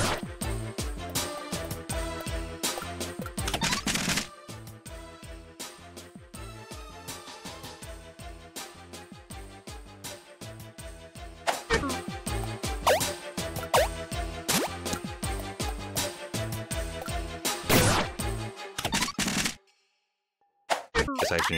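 Rapid, regular gunshots in the game Iconoclasts, a steady stream of short popping blasts that stops and starts, loud and alone, with no voices.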